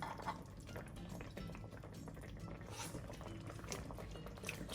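Firm tofu simmers quietly in teriyaki braising sauce, a faint, steady bubbling with soft liquid pops, heard close but at low level.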